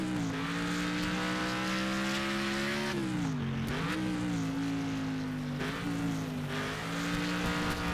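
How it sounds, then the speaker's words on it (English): Powerful, high-torque car sliding on sand in Next Car Game, its engine droning loudly and steadily with pitch dips and rises as the rear wheels slip, under a continuous hiss of sand. "There is a lot of torque in this vehicle, so the back wheels are sliding around pretty easily."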